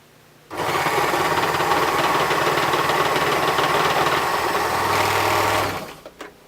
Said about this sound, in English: So what we'll do is we'll just start off by sewing the first side.